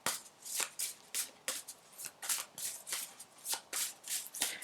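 Channel of Love oracle cards are shuffled by hand in a quick, regular run of about a dozen crisp riffling bursts, close and alone.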